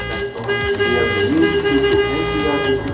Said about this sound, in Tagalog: kailangan meron kang busina para malaman nila, ma-alert ang mga nasa paligid na may tao dito